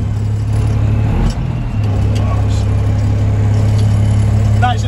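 M35 Reo deuce-and-a-half military truck engine running steadily at close range, a constant low droning rumble with a brief dip midway, with voices talking over it.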